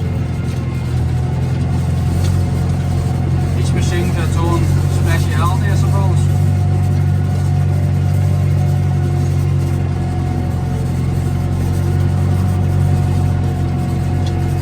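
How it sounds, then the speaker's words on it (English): A small tractor with a rotavator runs as a steady, loud, low engine drone throughout, with someone speaking over it briefly near the start. "A little rotavator clip with a small tractor."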